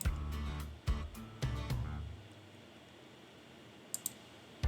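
Mouse clicks while playing the farming game Small Farm Plus, a few sharp clicks in the first two seconds, then quiet with two faint quick clicks near the end.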